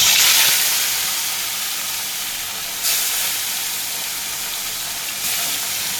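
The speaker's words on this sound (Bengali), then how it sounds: "মাছটাকে কিন্তু খুব সুন্দর লাল লাল করে ভেজে নিচ্ছি বন্ধুরা।" Catla fish frying in hot oil gives a loud, steady sizzling hiss that holds throughout, swelling briefly in two spots as the pieces shift in the pan, with no voices.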